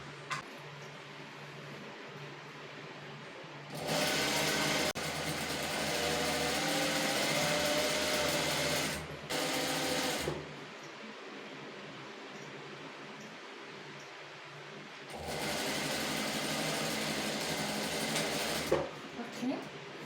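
A sewing machine top-stitches the band of a basic pencil skirt in long steady whirring runs, stopping and starting, with quiet pauses between stitching passes.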